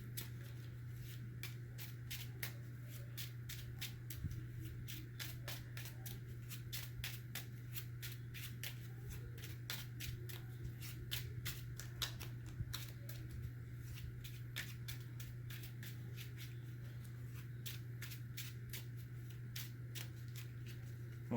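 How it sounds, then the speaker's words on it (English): A deck of cards for a Marvel Champions tabletop game being shuffled, a long run of rapid crisp riffling clicks over a steady low hum, with no talk. "I'm going to go ahead and get his deck shuffled here."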